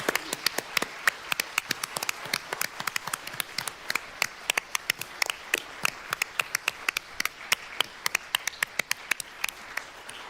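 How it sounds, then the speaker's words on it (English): At a Senate Appropriations Committee hearing on type 1 diabetes research, an audience claps for the delegates' parents, giving a busy patter of many separate hand claps that carries steadily for about ten seconds without talk. "join me in giving a huge round of applause"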